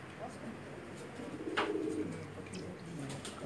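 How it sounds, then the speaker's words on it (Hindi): Pigeons bred as pairs coo softly in a rooftop loft, a low murmuring burst rising midway, with faint background noise and no clear talk. "ये जोड़े वाले कबूतर हैं जी"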